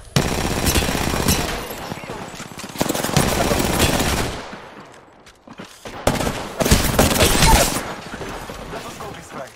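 Bursts of automatic gunfire in the battle royale game Apex Legends, loud sustained volleys in several separate stretches with brief lulls between them, mixed with mechanical weapon clatter.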